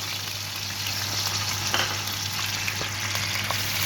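Ginger garlic paste sizzling in hot oil in a pan while cooking chicken macaroni, a steady loud frying hiss with occasional small pops and stirring scrapes.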